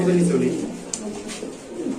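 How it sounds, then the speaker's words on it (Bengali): A large female pigeon coos in low, repeated throaty phrases close by, with voices talking over and around the calls. "দেখেন কত বড় সাইজ কবুতর একটা মাদি কিভাবে ডাকাটাই করতে দেখছেন"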